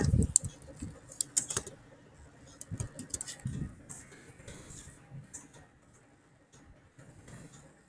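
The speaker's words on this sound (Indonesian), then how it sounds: "Lalu kita masuk dengan mengetikkan nano tugas 1" Typing on a computer keyboard, with quick, light key clicks in irregular bursts and a few louder taps, faint and close, over a low background hum.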